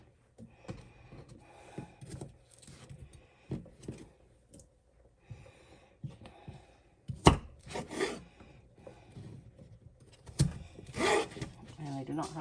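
A knife chops potatoes into bite-sized chunks for a soup, producing irregular thuds and taps on a cutting board with quiet rubbing between strikes, fairly faint and close, under occasional low talk.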